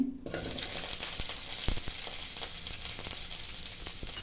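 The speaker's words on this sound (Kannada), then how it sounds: "ಒಂದು ಸ್ಪೂನ್ ಎಣ್ಣೆ ಹಾಕ್ತಾಯಿದ್ದೀನಿ ಫ್ರೈ ಮಾಡ್ಕೊಳ್ಳೋಕ್ಕೆ ಎರಡು ಈರುಳ್ಳಿ" Two onions fry in a spoonful of oil in a pan alongside a piece of cinnamon stick, giving a continuous close sizzle broken by frequent clicks and scrapes of stirring. No voice is heard.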